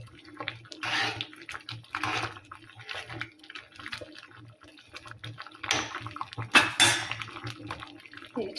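Flour dough being mixed by hand in a bowl for bisi bele kadubu, giving repeated wet squelching and sloshing strokes with a few clinks of the bowl, close and fairly quiet, with no talk.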